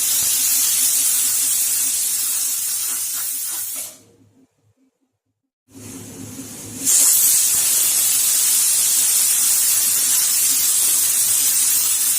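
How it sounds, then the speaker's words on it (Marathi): A pressure cooker whistle on full gas flame lets out a loud, sharp hiss of steam, breaks off into near silence for a moment, then blasts again even louder. "आपल्या कुकरच्या 3 शिट्ट्या झालेल्या आहे"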